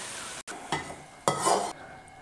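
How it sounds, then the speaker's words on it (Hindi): Kachnar chicken curry, made with orchid tree buds, is scooped out of the cooking pot, giving two bright scraping bursts of a spoon against metal over a soft, steady background hiss. "तो हम डिश आउट करते हैं।"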